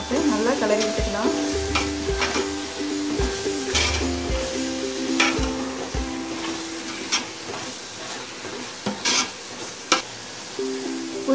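Mint and coriander leaves are stirred and fried in a pot for chicken biryani, a soft sizzle with intermittent spoon scrapes and knocks, partly under background music.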